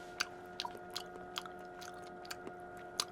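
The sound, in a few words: chewing Korean beef tartare (yukhoe)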